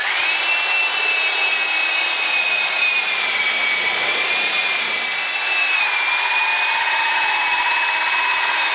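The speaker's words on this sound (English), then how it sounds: "This is a 7/8 inch hole, which seems right for my fingers." Power drill boring a 7/8 inch hole through wood with a spade bit, a steady high-pitched whine that holds nearly constant with slight pitch dips as it bites, loud and close with no talking.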